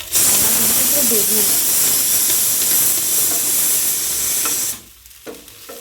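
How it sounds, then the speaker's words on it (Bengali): Eggplant slices fry in a pan with a little oil, making a loud, steady sizzling hiss close by that cuts off abruptly near the end, leaving faint room sounds. "বেগুন ভাজাগুলো বসিয়ে দিয়েছি আর বাবা আর মা দুজনে খাবে তো অল্প তেল দিয়ে একদম জাস্ট শাঁকা শাঁকা করেই ভাজছি"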